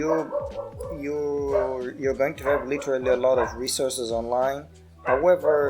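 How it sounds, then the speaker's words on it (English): A dog barks and yips repeatedly in the background, short sharp bursts mixed under a man's steady close speech. "sorry for my dog is barking a lot"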